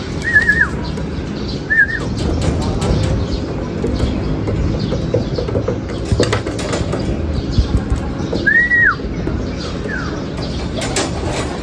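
Racing homing pigeons arriving at a loft after a 74 km race in Lucena City, with brief chirps and wing sounds over steady outdoor background rumble while people talk excitedly.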